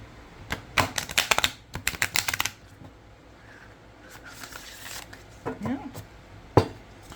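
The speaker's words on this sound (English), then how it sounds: "So let's do a shuffle. Let's take a little shuffle. I want to see how they shuffle." A deck of 48 thick cards riffle-shuffled twice: a rapid flurry of crisp card flutters and snaps in the first two and a half seconds, then a quieter second riffle around five to six seconds ending in a sharp bridge tap.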